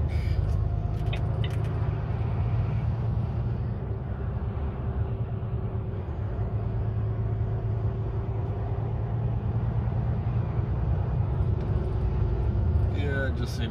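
A broken-down vehicle being recovered and loaded onto a truck, heard as a steady low engine drone and mechanical rumble that runs throughout, with faint clanks near the end.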